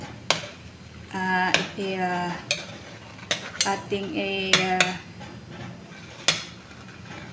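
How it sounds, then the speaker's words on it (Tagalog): Fried eggs being moved from a frying pan into a bowl with a utensil while cooking pork adobo with tokwa, giving clinking and scraping metal-on-pan sounds in short bursts, close and clear, with a soft voice at times. "So, transfer natin yung egg sa ating bowl."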